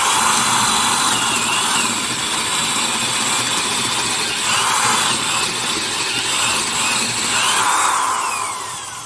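An older American-made Rockwell 3/8-inch commercial duty corded drill drives a bit under heavy pressure, a loud continuous whining motor drone with slight pitch shifts that runs for about nine seconds and eases off at the end.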